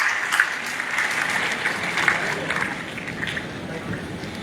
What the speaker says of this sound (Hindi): तीनों के लिए एक बार जोरदार ताली बजाओ।